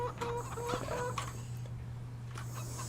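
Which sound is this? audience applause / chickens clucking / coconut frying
chickens clucking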